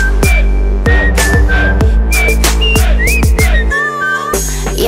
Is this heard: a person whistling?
yes